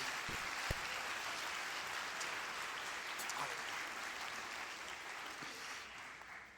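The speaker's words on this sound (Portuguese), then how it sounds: "Você pode aplaudir ao Senhor pela palavra de Deus." A church congregation applauds during a sermon, a continuous, fairly faint wash of many hands clapping with a few sharper individual claps, holding steady and easing slightly near the end.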